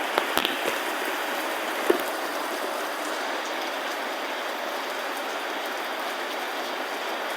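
Steady rain falls in a dense, even hiss, with a few sharper drop taps near the start and no voices.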